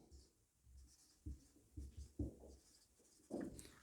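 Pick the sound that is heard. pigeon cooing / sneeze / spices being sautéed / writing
writing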